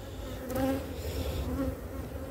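A new honeybee colony buzzes close by, a dense steady hum of many bees with slight rises and falls in pitch, with no voices.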